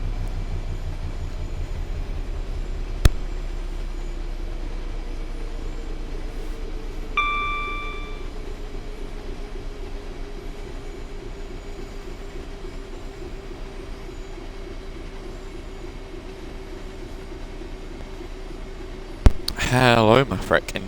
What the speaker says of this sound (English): Look at the length of the freight train.